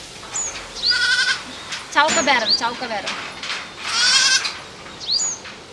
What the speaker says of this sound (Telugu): మా మేకలు అయితే ఉండలేవు